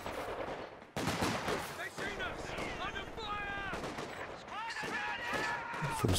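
A sniper fires in a Company of Heroes 2 battle: sharp cracks stand out among bursts of machine-gun fire and battle noise, with a voice talking over the action throughout.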